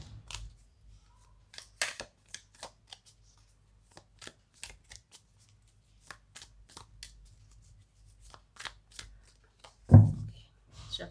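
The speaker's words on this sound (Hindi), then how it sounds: "Shuffling is complete." A deck of tarot cards is shuffled by hand, producing a string of quick, soft riffling clicks and flutters spaced irregularly, closely miked and quiet, ending in a louder thump as the deck is squared.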